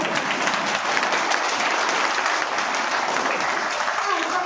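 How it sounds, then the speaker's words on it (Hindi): An audience at an RCM business meeting claps steadily and loudly for the whole stretch, a dense close wash of hands with a faint murmur of voices underneath. "पैसा के नाम पे बहुत ताली बज गया।"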